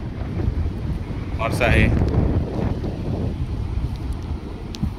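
Steady wind at Karde beach in Dapoli rushes across the microphone as a continuous, fairly loud buffeting roar, with a brief voice speaking over it partway through.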